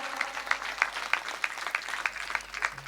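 Audience at a Marathi kirtan clapping in a steady, evenly spaced rhythm of sharp claps, moderately loud with a diffuse room ambience and no voices over it.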